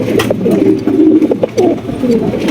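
A pair of red Benarasi pigeons coo in repeated throaty, rolling phrases, close and fairly loud, with a few brief gaps between calls and no talking.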